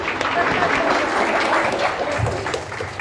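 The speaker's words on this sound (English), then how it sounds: "Clap for him." Students in a physics lecture at Jain University clap together in a dense, steady burst throughout, close and moderately loud, with a few voices mixed in.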